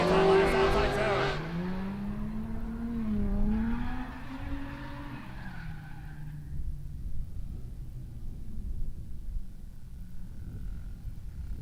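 A drift car with a VQ engine battles another through the outside zone at Raceway Park, a loud revving engine sweeping up and down with tire squeal early, then fading into distant engine noise and crowd ambience.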